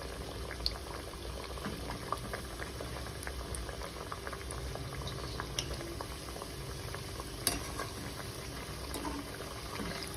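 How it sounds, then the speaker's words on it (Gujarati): Maida farsi puris frying in hot oil, a continuous close bubbling sizzle with scattered small pops and crackles throughout. "આવી જ રીતના આપણે બધી પૂરી તળી લઈશું."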